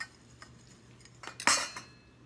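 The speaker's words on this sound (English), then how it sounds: "We stir that around." A spoon stirs dry oats and chia seeds in a jar, giving a few faint metallic clinks and scrapes that build to a brighter rattle near the end, with no voices.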